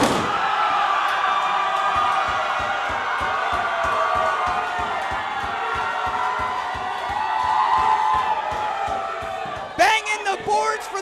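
A wrestler bangs rapidly and rhythmically on the ring's hard boards, repeating loudly under an arena crowd's roar and a shouting voice, ending in a burst of cheers.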